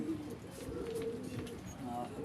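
Pigeons kept by a handler coo softly and intermittently over steady background noise, with people talking nearby.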